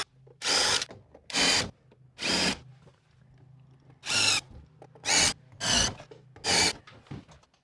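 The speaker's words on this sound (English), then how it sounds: "under where the window weight pulleys were, I've drilled holes about every 10 inches or so" Power drill boring holes every ten inches or so under the old window weight pulleys of a window frame, heard as seven loud bursts of drilling separated by short pauses over a low steady hum.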